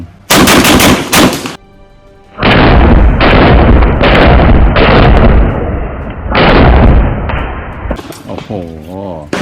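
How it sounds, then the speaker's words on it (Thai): Beretta 92 FS pistol fired in rapid bursts of loud, close shots, several clusters separated by brief pauses, with a voice speaking near the end. "เริ่มยิง"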